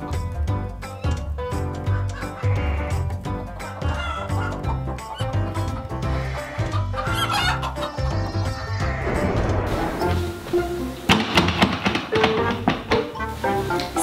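A chicken clucks amid busy, music-like sound with repeated tapping, the clucks woven through a dense, loud mix for about fourteen seconds.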